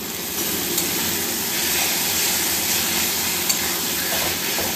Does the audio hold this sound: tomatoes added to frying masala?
yes